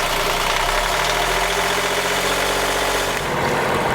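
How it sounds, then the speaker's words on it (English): A Volvo Penta marine diesel engine on a sailboat idles with a loud, steady, close-up rumble and even knocking pulses for the whole stretch, with no voices over it. "going to start the engine. Get started right away."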